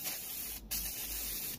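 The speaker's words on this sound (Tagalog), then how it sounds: "Pag-spray ko, naubusan pa ako ng spray." An aerosol spray paint can hisses in a steady, close burst, breaks off briefly and then sprays again.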